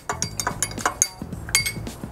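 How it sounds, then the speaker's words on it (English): A spoon clinks rhythmically against glass while briefly stirring white rum into pineapple juice, about ten quick bright taps in a steady beat, close and clear with no talking. "Give that a quick little stir to integrate"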